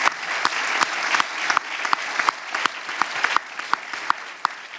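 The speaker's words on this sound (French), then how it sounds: "Sous vos applaudissements, s'il vous plaît" Audience applauding at the Madeleine 2023 bullfight poster announcement in Mont-de-Marsan, a steady dense clapping crowd with sharp individual claps standing out, sustained throughout.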